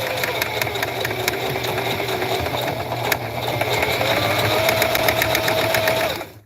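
Sewing machine stitching a zigzag across the bottom of a tote bag made from placemats, a steady fast mechanical whirr and rapid ticking of the needle running continuously up close, then stopping at the end.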